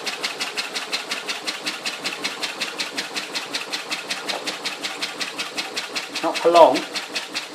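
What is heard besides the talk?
small steam engine running on steam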